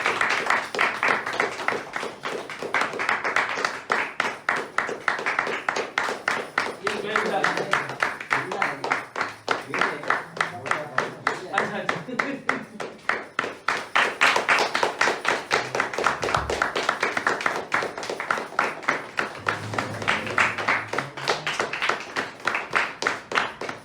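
Loud, steady audience clapping fills a weekly meeting hall in Noida, dense and continuous for the whole stretch, with brief murmurs of voices underneath.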